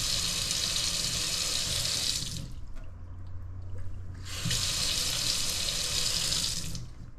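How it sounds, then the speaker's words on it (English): Hands-free kitchen faucet running water into a sink, a steady rushing splash that stops briefly mid-way and then resumes, close and fairly loud with no talk. "I'd like to have one of those hands-free water faucets or kitchen faucets"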